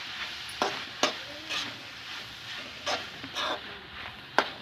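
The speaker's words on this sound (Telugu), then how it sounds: "పచ్చి వాసన పోయేంత వరకు వేస్తాం కొబ్బరి కూడా." Grated coconut fries in a pan for ponnaganti leaf dal fry, a soft steady sizzle broken by several sharp scrapes and clacks of a spoon stirring, close by, with no talking.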